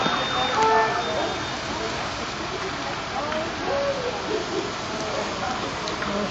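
A fire truck siren wails as it passes through steady rain near a car fire in a Kroger parking lot, its tones faint and wavering under the constant hiss of rainfall, with low voices murmuring nearby.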